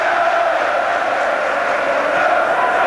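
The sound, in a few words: football stadium crowd at the Hawthorns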